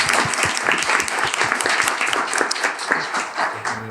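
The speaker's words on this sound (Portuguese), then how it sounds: "Palmas para nós." An audience celebrating at a live recording breaks into sustained applause, many hands clapping steadily and close, with a faint voice near the end.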